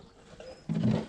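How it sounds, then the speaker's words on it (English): On a Boer goat farm during milking, a cat lets out one short, loud, harsh cry after a quiet moment. "That was the cat who scared the goat"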